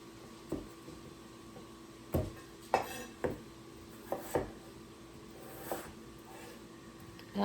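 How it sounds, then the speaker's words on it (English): Scattered knife chops and clinks on a board as potatoes are cut, irregular and fairly quiet, with kitchen clatter in between. "I'm going to go ahead and chop the potatoes up"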